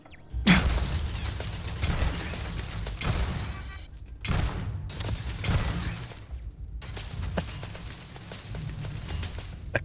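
Gunfire in a video game as turrets are shot down, with repeated bursts of sharp, crackling shots and booms in clustered volleys and short gaps between them, loud and close.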